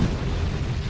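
A dense, rumbling explosion from a bomb, a continuous low roar filling the whole moment, loud and unbroken with no voices.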